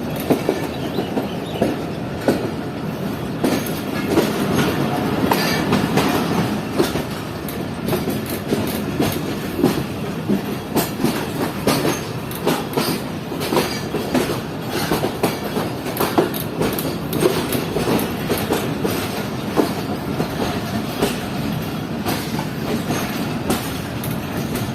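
Shah Hussain Express passenger train rolling on rails through hot weather, a steady rumbling clatter with rhythmic clickety-clack of wheels over joints, loud and close throughout with no voices.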